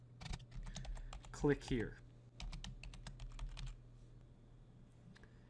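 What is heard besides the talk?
typing on a computer keyboard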